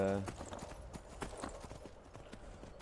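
Horse hooves clip-clop in a quick galloping rhythm during a Skyrim ride, moderately loud and steady, with someone talking over them.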